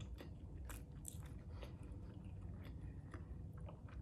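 Someone eating homemade sambal made with onion, close soft biting and chewing with small crunches and wet squishes, steady and quiet.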